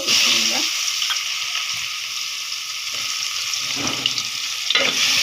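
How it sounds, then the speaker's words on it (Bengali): Onions dropped into hot oil after fish has been fried, a loud continuous sizzle and crackle with occasional stirring clatter, a voice faintly audible beneath. "এটা আমি তেলের মধ্যে পেঁয়াজ দিয়ে দিব"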